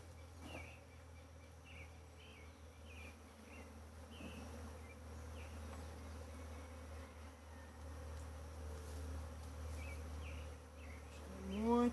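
Honey bees buzz steadily inside a bait box during a transfer to a standard Langstroth hive, a faint, continuous drone with occasional louder passes of individual bees, and no talking.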